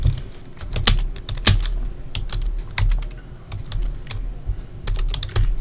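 Typing on a computer keyboard: irregular, close clicks and clacks of keys struck at varying pace, with a steady low background hum and no talking.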